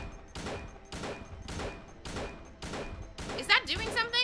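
Video game gunfire in Silent Hill 2: about seven evenly spaced shots ring out one after another, each with a short decay, and a voice speaks over the last shots.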